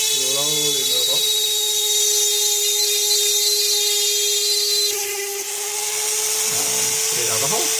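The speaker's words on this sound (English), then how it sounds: "What I do is I hold my keyring one hand and drill at the angle, and then slowly move up." A small drill boring a hole through glass held at an angle, giving a steady high-pitched whine with dental-drill-like tones that shifts pitch midway, with brief bursts of talk at the start and end.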